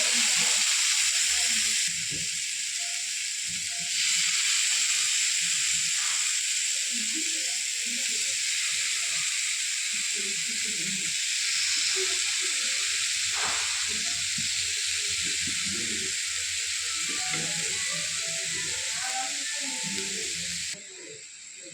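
Marinated chicken tikka, cooked without oil on a hot tawa, sizzles with a steady loud hiss that runs for about twenty seconds, with faint clinks underneath.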